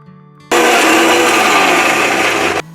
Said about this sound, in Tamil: இப்போ நம்ம மிக்சர் ஜாரில் வெங்காயம், காய்ந்த மிளகாய், ஜீரகம் மற்றும் தேங்காயை போட்டு நல்லா அரைச்சி எடுத்துக்கலாம்.